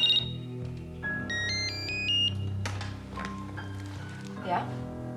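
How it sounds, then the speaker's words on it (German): A telephone rings in a dramatized scene, with a repeating electronic ringtone pattern over a bed of music and background sound, moderately loud. "klingelte das Telefon"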